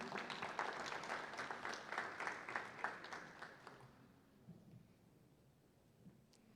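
Audience applause at the opening of an international artificial intelligence congress, a few seconds of fairly faint, distant crowd clapping that fades away into quiet room tone.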